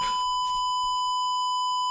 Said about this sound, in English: This whole video is silent except for this loud beeping noise that plays halfway into the video.